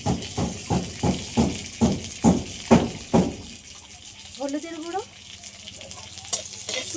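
Dried green mango (amshi) frying in a pan, with a rhythmic run of loud stirring scrapes over a steady sizzle, then quieter frying as a voice speaks briefly.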